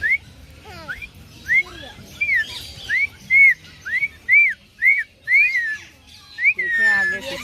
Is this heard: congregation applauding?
no